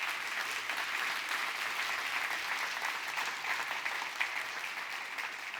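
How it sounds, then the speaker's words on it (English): A round of applause from an audience for storytellers at a keynote event, steady continuous clapping from a crowd, moderately distant and even throughout without speech. "So give them a round of applause preemptively for doing this."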